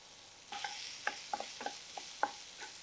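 Onions with a pinch of salt sauté in a pan for Tirunelveli sodhi, heard as a faint, quiet sizzle broken by several light spoon taps and scrapes.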